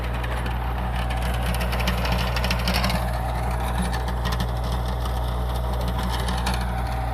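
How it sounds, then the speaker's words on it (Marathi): A tractor engine drones steadily and continuously while driving a rotavator through a farm field, with a constant low rumble throughout and no voices. "एक ट्रॅक्टरनं रोटर मारत आहे."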